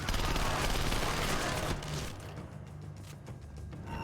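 In Splinter Cell Conviction, a 5.7 pistol fires in a dense, loud burst of shots that then falls back to scattered quieter cracks and a murky combat din.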